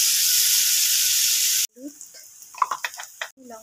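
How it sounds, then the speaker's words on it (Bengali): Onions frying in a pan until reddish give a loud, steady broadband sizzle for the first half, then it cuts off and a few short stirring scrapes and soft voices follow. "পেঁয়াজগুলো একটু লাল লাল হওয়া পর্যন্ত ভাজবো"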